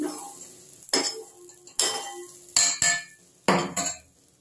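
Kitchen dishes clink and clatter as a fried egg is lifted from the pan into a bowl, with a series of sharp metallic knocks and scrapes spaced irregularly, close and fairly loud.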